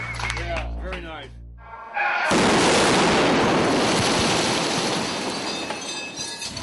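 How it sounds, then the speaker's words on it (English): A roughly 3-ounce black powder lifter charge detonates on a film set with a sudden, loud broadband blast that rolls into a long roaring wash of falling debris, following a few seconds of people's voices. "Black powder bomb, about a 3 ounce. It's commonly known as a lifter."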